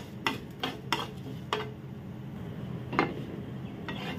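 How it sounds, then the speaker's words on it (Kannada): Urad dal stir-fried in a spoonful of oil, heard as a spoon scraping and clinking against the pan in several distinct knocks over a low, faint sizzle. "ಇಷ್ಟನ್ನು ಒಂದು ಸ್ಪೂನ್ ಎಣ್ಣೆಯಲ್ಲಿ ಚೆನ್ನಾಗಿ ಫ್ರೈ ಮಾಡಬೇಕು"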